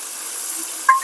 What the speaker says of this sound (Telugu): Mutton fry.